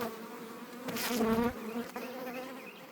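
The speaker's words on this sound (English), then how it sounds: "There's a lot of bees on that one." Honeybees swarm around honey frames during a harvest, giving a close, continuous buzzing that swells loudly for a moment before settling to a steady drone.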